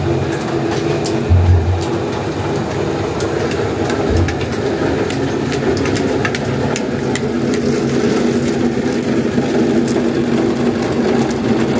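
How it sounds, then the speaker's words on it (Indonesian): A motorized grinder shreds coconut into coconut milk at Pasar Induk Senen, a traditional market in Jakarta, running as a steady loud mechanical whir with rattling clatter throughout, plus a couple of low thuds early on. "Nenek lagi ngegiling kelapa buat jadi santan."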